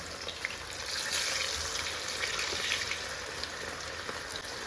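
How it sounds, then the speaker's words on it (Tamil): Cauliflower pieces frying in well-heated oil give a steady, close hiss of sizzling with fine crackling spatter throughout, without talk. "இப்போ கடைசியாக வந்து காலிஃப்ளவரை பொறிச்சிடலாம் நல்லாவே எண்ணெய் காஞ்சிருச்சு"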